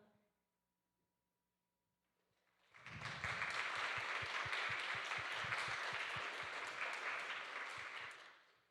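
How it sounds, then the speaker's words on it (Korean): A church youth worship congregation claps to welcome newcomers. After a near-silent pause, loud, lively applause from many hands erupts and holds for several seconds before tapering off at the end. "새로 오신 분들은 일어나시면 저희가 박수로 환영해 드리겠습니다"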